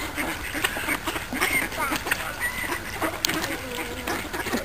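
A group of ducks quack busily at close range while being fed by a family, with repeated overlapping calls and some scattered background chatter.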